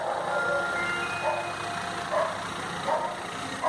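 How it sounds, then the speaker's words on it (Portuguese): A rebuilt VW Gol engine idles steadily with a constant low hum, joined by scattered background noises and occasional mid-pitched tones, with voices faintly audible in the background. "Motorzinho já funcionando aí, ó."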